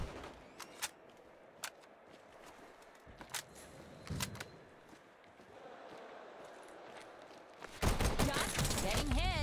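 Gunfire in the shooter game Combat Champions, scattered sharp single shots and short bursts over a faint background, then a louder clatter of rapid fire near the end.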